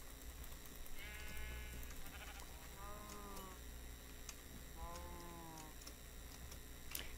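A sheep in a video game gives three separate quavering bleats spaced a couple of seconds apart, quiet and clear over a soft background hum.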